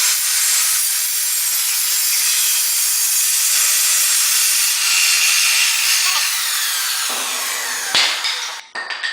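Power saw making a freehand cut through a hardwood stair tread, one loud continuous whining cut that holds steady, then sputters and winds down near the end.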